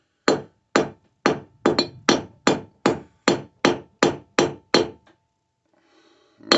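Twelve sharp, evenly spaced hand-hammer blows ring out close and loud on a mokume gane billet of 14k white gold and sterling silver, each strike ringing briefly, followed by a pause and faint shuffling, then one more blow.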